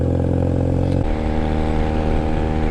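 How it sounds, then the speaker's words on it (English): A 1997 Honda Rebel 250 motorcycle with a cut exhaust revs loudly and close, its rough engine note shifting pitch about a third of the way in and then holding steady. "I'm not saying that this bike is obnoxious with an exhaust cut"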